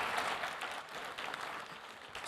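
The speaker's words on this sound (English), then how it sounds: "Let's give them a warm round of applause" Audience applause for a panel at the Hevolution Global Healthspan Summit 2025 in Riyadh: dense, steady clapping from a crowd that fills the whole stretch at an even level, with no voices over it.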